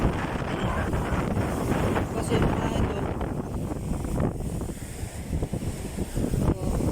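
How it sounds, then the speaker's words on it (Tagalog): Strong wind buffets the microphone with a steady low roar throughout, while someone speaks briefly over it. "Malakas yung hangin mga idol, parang malabo."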